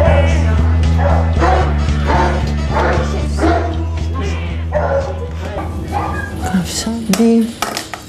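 Several dogs at an animal shelter bark and whimper close by, and dishes and metal bowls clatter as a person talks over the noise.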